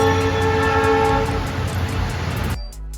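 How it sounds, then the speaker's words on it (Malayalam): A goods train runs along the railway line near Dudhsagar Waterfall in Goa, a loud, close rumble with rhythmic wheel clatter that cuts off abruptly near the end. "ആ റെയിൽവേ പാതയിലൂടെ ഒരു ട്രെയിൻ പോകുന്ന കാണാൻ പറ്റി. ഗുഡ്സ് ട്രെയിൻ ആണ് പോകുന്നത്."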